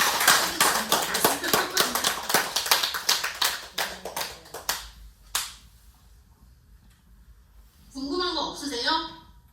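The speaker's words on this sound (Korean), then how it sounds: "네, 일단 박수 한번 쳐주세요." An audience applauds at an international Buddhist dharma mission inauguration and lecture: dense clapping for about five seconds, tapering into a few scattered claps, then a stretch of quiet before a voice speaks.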